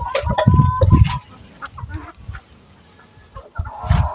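Several loud, close hen clucks in quick bursts, then a pause with softer sounds before another burst of clucking at the end.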